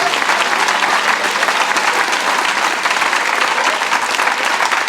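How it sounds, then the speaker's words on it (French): Sustained applause from a concert audience, steady and dense clapping filling the whole stretch at close range, with no pauses and no clear voices above it. "Des applaudissements pour Jacques et Mathieu."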